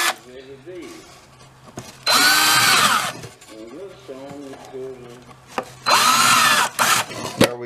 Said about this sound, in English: I'm going to drill a little bit right there on each one first